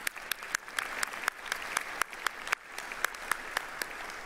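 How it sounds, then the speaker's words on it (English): At an honors college induction ceremony, an audience claps steadily in a hall, the applause sounding moderately distant and lasting throughout with no talk. "Can we give them a round of applause as well?"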